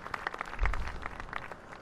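Team applause in the racing video game F1 2021, a brief burst of scattered clapping at moderate, somewhat distant volume.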